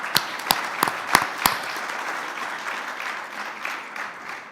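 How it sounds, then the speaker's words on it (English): A conference audience applauds a panel and its speakers. A few crisp individual claps ring out first, then they blend into a softer, steady patter of many hands that slowly fades. "let's give also applause for the wonderful panel that we had and all the speakers"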